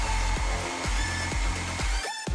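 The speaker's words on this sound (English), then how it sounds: "We need some heat so we can use the hairdryer." Hair dryer blowing steadily on hair during a styling routine, a continuous close airflow roar with rhythmic pulses, cutting off abruptly near the end.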